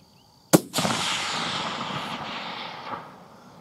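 A single loud rifle shot fired at a deer some 700 yards off cracks sharply, followed by a long rolling echo that fades over a few seconds outdoors.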